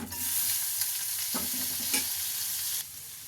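Drained plantain pieces dropped into a pan of hot oil with fried seasoning, a dense close sizzle with a few stirring scrapes, dropping off sharply near the end.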